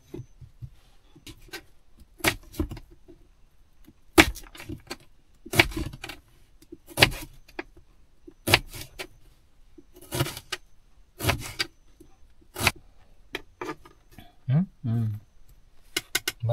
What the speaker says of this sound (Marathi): कांदा, तर कांदा बारीक कापतो.